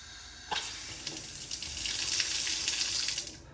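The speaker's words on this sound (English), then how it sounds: "So we're gonna turn on the water" A kitchen sink faucet opens with a sharp click and water then runs steadily into the basin, a close and loud hiss that swells slightly before cutting off.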